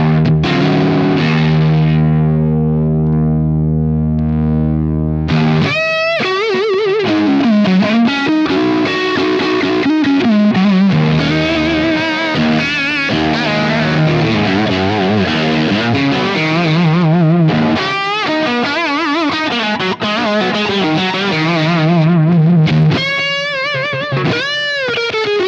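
Electric guitar played through an Axe-Fx III Marshall amp model with a Fuzz Face pedal in front, loud and saturated with thick fuzz distortion, a sustained held chord opening into busy riffing and bends, played alone.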